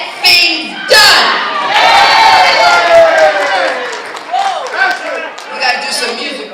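A crowd at a women's celebration cheers loudly, with whoops, shouts and scattered claps rising and falling close by.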